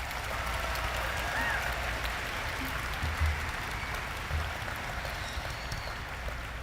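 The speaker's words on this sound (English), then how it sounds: "Can we give all these administrators a big round of applause as well?" Applause from the audience at a secondary school graduation ceremony, honoring the school administrators: a steady, fairly quiet patter of many hands that continues evenly throughout, heard at some distance with a faint low rumble beneath.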